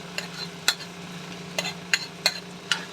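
Cooked rice being stirred into tomato chutney in a pan, with several sharp scraping clicks of a spoon at irregular intervals over a faint steady sizzle, quiet and close.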